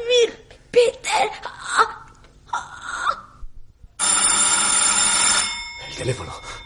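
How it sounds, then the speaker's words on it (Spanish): An old-style telephone bell rings loudly for a couple of seconds in a Spanish radio drama, following tense, strained voices and a whimpering cry, with a voice resuming faintly as the ring ends. "El teléfono."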